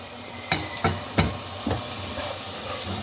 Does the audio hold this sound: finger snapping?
no